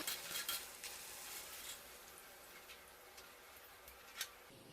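Rava chips fry quietly in hot oil, a soft, steady low-level sizzle with faint clicks and one small tap near the end.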